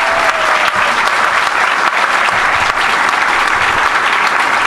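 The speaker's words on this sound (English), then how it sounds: "give her a round of applause, please." Loud, continuous applause from an audience at a college football coach's introductory press conference, dense clapping close and full throughout with a few sharper individual claps standing out.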